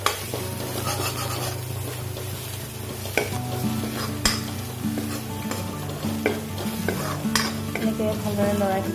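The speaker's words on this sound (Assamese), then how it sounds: "ভালদৰে লৰাই দিম" Bay leaf, red chili, cumin powder and coriander powder stirred and frying in a pan, with a steady sizzle, a spoon repeatedly scraping, and occasional sharp clinks of metal against the pan.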